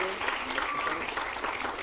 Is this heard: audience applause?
yes